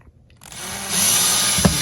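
A power drill set to low torque drives a screw into a sturdy dresser panel, its whine rising to a steady, close, loud buzz with a small knock near the end.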